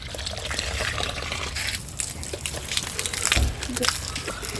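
Water being poured onto a Malabar spinach vine in a home garden: a continuous splashing, trickling wash with a brief heavier gush near the end, set against an outdoor background.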